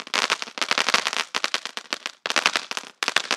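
Wanted Gun firecracker from Sivakasi bursting in rapid, gunfire-like volleys of sharp crackling pops, loud and close, with short gaps between bursts.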